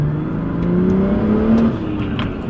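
A BMW M240i builds boost as it accelerates on a back road. The turbo engine climbs steadily in pitch through one pull before easing off, close and loud throughout.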